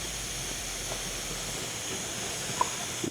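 A spray bottle lightly misting the paint of a freshly towel-dried car, a soft continuous hiss close by with a faint click near the end.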